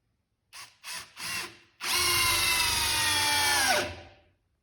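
A Metabo Powermaxx 12V drill/driver gives three short bursts, then drives a screw in one sustained high whine that ends abruptly. The tool is close and loud, with no one speaking.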